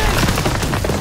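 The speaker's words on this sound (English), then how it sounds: "Gunfire!" Dense battlefield gunfire from Call of Duty: WWII crackles in a loud, continuous burst of overlapping shots that fills the whole moment.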